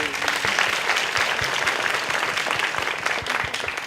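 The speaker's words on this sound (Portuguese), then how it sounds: "Palmas para ele." Audience applause at a business summit talk, a dense steady clapping from a crowd that fills the whole stretch at an even level.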